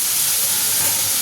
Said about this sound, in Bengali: এই যে এখানে ঢ্যাঁড়স ভাজা হচ্ছে